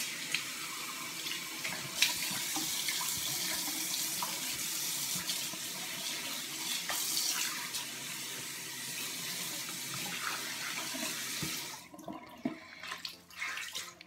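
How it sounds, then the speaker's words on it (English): Cold water runs steadily from a tap into a sink in a steady splashing stream, then cuts off near the end, leaving scattered drips and small handling noises. "you want to get really cold water."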